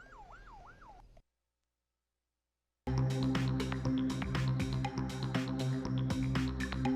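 Ambulance sirens from a convoy leaving Gaza through the Rafah border crossing: a wailing siren sweeps up and down for about a second, then, after a silent gap, a busy mix of siren tones and traffic noise plays on.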